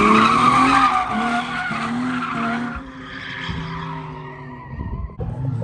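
A car skids on its e-brake at a race track, tires squealing in a loud, wavering howl with engine drone beneath, fading as it moves off before a final sharp burst.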